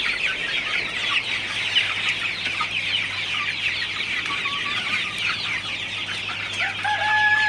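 Sonali and broiler chickens in a hot poultry farm shed fill the space with a dense, steady chorus of clucking and chatter, with a rooster crowing faintly, over a constant low fan hum.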